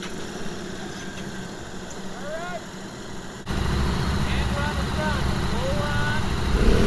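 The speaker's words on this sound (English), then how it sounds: "they're about to crank up the Street 500s" Harley-Davidson Street 500 motorcycles starting up together, a low rumble jumping louder midway into steady idling, heard outdoors at a rider training course with faint voices in the background.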